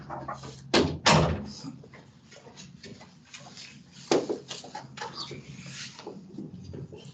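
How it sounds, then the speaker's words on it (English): An indoor door is pulled shut, giving a loud dull thump with a rebound knock, then a second softer bump a few seconds later amid quiet rustling. "I'm going to close this door"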